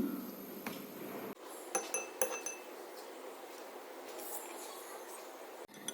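Spoon stirring honey into a green tea face pack in a bowl, faint scraping and a few light clinks against the bowl under a soft hiss, with a couple of sharper taps midway.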